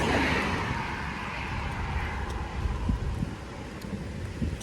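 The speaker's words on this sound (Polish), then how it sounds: "A teraz trasa pod wiatr. Tak wieje." Steady, loud wind buffeting a microphone outdoors, a constant rushing roar with low rumbling gusts.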